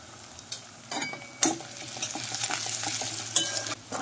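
Spices are sautéed and stirred in a pan for Bengali chorchori with pumpkin-flower stalks, giving a soft sizzle under scattered scrapes of a spoon against the pan, near and moderately loud.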